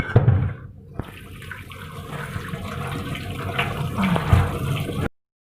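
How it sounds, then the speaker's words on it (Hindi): Running water pours steadily over tripe in a basket for about five seconds, a continuous splashing rush that cuts off abruptly at the end. "ये सारी उजरी हम टोकरी में डालेंगे और ऊपर पानी डाल के इसको धो लेंगे।"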